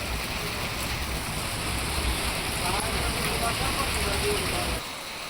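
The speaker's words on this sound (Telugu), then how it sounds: "అంతలోనే చినుకులు పెద్దవయ్యాయి. భారీ వర్షం పడింది." Heavy rain pours down in a dense, steady roar of falling water that drops off abruptly near the end.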